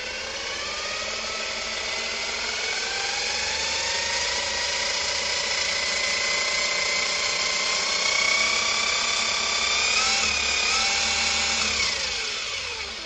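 Motor of a Donkey Kong RC car, modified for speed and running on 2S, winds up steadily with a high whine that climbs in pitch, holds, then spikes and eases off, close and alone.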